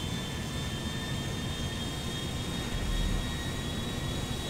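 A jet airliner's engines roaring steadily in a flight-simulation game as the plane tries to take off again, a dense continuous whoosh with a faint high whine, swelling slightly near the end.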